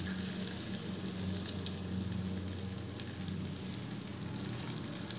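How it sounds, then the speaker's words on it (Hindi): Butter melting in a pan over very low heat, a soft, steady sizzle with faint crackles running evenly throughout, for a creamy garlic sauce. "बटर को मेल्ट होने दें। बिल्कुल हल्की आग पे रखना है इसको।"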